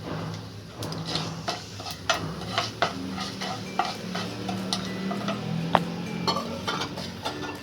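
Urad dal fries with a spoonful of asafoetida in hot oil, sizzling steadily while a spoon scrapes and taps against the pan in irregular strokes, close up and fairly quiet, with no talking.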